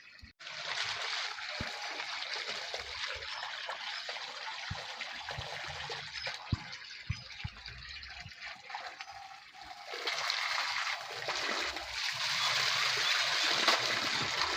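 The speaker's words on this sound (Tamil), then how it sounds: "ஆனால் நாங்கள் வந்து செடிக்கு தண்ணி பாய்க்கிறோம்" Water runs steadily onto garden plants during evening watering, a continuous trickling and splashing wash that holds near and fairly even, swelling louder toward the end, with no voices.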